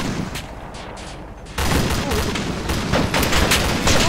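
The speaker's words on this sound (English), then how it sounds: "Oh, we're taking fire." Gunfire in a military video game, a loud burst of overlapping rifle shots and fusillade crackle that erupts suddenly after a quieter stretch and continues densely with scattered booms, with a little talk.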